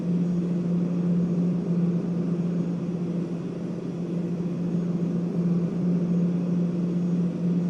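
Airplane taxiing on a runway in the Roblox video game, a steady droning engine hum with a strong low tone, continuous and even throughout with no talking.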